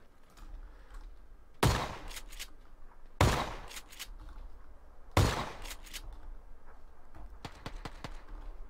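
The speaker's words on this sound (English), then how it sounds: "What are you shooting at? The tree?" Gunshots in PUBG, three sharp loud reports spaced a second or two apart followed by a quicker cluster of fainter shots, over quiet outdoor ambience.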